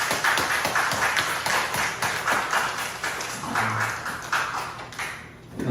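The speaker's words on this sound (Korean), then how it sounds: "요동치 않게 하시는 산성 되신 우리 하나님께 영광의 박수를 드리겠습니다." A church congregation claps together in praise. Steady rhythmic hand claps repeat at a moderate level, swelling and fading slightly near the end.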